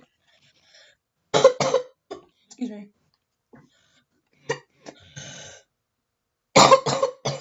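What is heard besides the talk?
coughing fit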